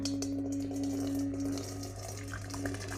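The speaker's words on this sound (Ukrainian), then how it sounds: "Термос з гарячою водою. Я наливаю сюди." Hot water from a thermos pours into a metal bowl, a steady close stream with a faint ringing tone from the metal beneath it.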